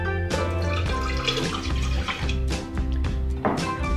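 A cup of water poured into a kettle for making strong tea, a close, steady splashing pour running for a few seconds with background music.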